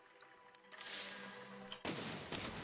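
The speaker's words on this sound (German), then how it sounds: "Der Rückstoß von den Kanonen." Cannons fire in the Besiege video game, a burst of loud booming blasts with a sharp renewed crack midway, dense and close with no talking over it.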